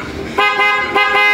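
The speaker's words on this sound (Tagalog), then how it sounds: "Diba ang lakas ng PIA horn?" A PIAA loud car horn sounds in short, loud tonal blasts, roughly three honks in quick succession after a brief quiet start, with no other sounds.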